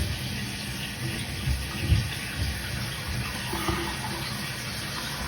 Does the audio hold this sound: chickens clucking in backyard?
no